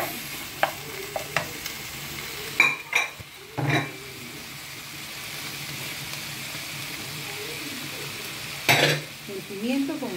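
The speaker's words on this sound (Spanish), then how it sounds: "Ahora vamos a echar el tomate." Tomato dropped into a pan of frying pepper and ají amarillo: a soft constant sizzle under a few sharp clanks and scrapes of utensils against the pan, with a brief stir near the end.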